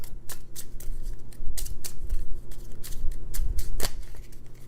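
Dice rattle and clatter in a quick series of sharp, irregular clicks as they are shuffled back in during a Roll For Adventure tabletop game, heard close up with no talking.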